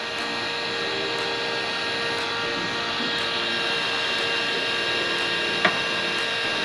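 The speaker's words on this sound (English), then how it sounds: "this heat gun battery is about dead" A battery-powered heat gun with a nearly dead battery blows a constant, even fan roar while shrinking heat-shrink tape in a barn, with no talk over it.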